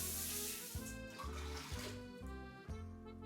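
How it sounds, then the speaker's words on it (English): Water poured into an Instant Pot, a steady trickling flow with a few brief interruptions, close and fairly quiet. "we're gonna begin with putting water in our Instant Pot"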